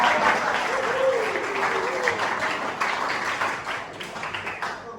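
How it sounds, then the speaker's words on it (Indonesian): A classroom of students clapping for a classmate who gave a good answer, a steady mid-level wash of applause lasting throughout with a brief voice or two mixed in. "Kasih tepuk tangan buat dia"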